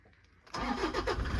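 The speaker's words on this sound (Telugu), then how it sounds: "సో నేనైతే ఇంజన్ అయితే స్టార్ట్ చేస్తున్నా." A 2013 Toyota Innova 2.5G eight-seater cranks briefly and catches, its diesel engine settling into a loud, close rumbling idle after a quiet start.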